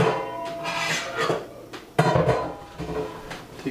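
Malt stirred into a brewing mash in a pot: clanking scrapes and knocks of a spoon against the vessel, irregular and close, with a sharper clunk partway through.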